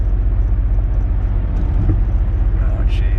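Mercedes CL65 AMG engine running rough in freezing weather, a loud constant low drone and vibration filling the cabin with a throbbing, uneven pulse throughout.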